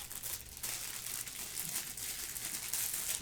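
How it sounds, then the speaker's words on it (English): Plastic packaging crinkles steadily at close range while two budget plastic mini tripods are unboxed, a continuous rustling and crackling with no talk over it. "Sorry about all crinkling."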